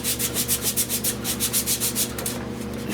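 Rhythmic back-and-forth hand sanding of slick high build sand primer on a 1970 Buick Wildcat taillight bezel, steady scratchy strokes close up, slowing to a continuous rub near the end, with no talking.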